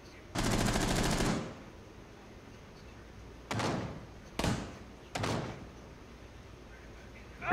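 Gunfire in Rainbow Six Siege: a long automatic burst is followed by three shorter bursts, loud and close, with quiet gaps between them.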